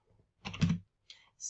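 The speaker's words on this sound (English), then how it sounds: "I'm saying, yes, I understand it by typing in my name" Fingers type on a computer keyboard in short bursts of clicks separated by brief pauses, close and fairly clear, with no talking.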